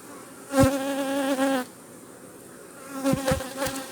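Honeybees buzz around an opened hive in an apiary, a dense droning hum that swells with bees passing close by in two bursts separated by a quieter stretch of steady background buzzing.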